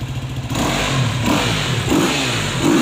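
KTM EXC-F 250 dirt bike engine revving hard, a loud, close, continuous buzzing roar held at high revs with slight rises and dips in pitch.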